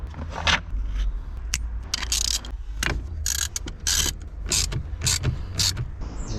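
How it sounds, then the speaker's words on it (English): Worn gas struts on an ex-track-day BMW creak and grind in repeated irregular bursts, loud and close over a low rumbling background, with no talk. "I really need to do these gas struts as well. It makes such a noise."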